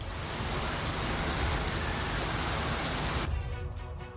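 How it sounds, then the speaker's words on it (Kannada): Heavy rain pours down in Karnataka's Karwar and Chikkamagaluru region as a dense, steady roar of drops. It ends abruptly just before the close, leaving a thinner trickle. "ಕಾರವಾರ ಮತ್ತು ಚಿಕ್ಕಮಗಳೂರಿನಲ್ಲಿ ಭಾರಿ ಮಳೆ."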